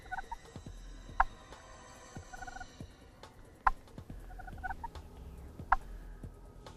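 Three sharp, separated gobbles from a wild turkey in Georgia carry over a quiet outdoor background, spaced a couple of seconds apart and fairly distant.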